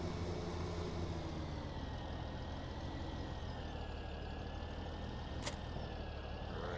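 Tractor engine in Farming Simulator 17 on a hilly farm, a steady droning rumble held at an even level with a brief hiss near the end.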